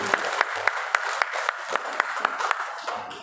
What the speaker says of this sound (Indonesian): mari beri tepukan bersama-sama untuk Tuhan atas acara sebentar tadi